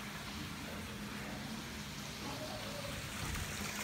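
Steady running water near a hotel on Tobago, a continuous faint wash of flowing water with no talk over it.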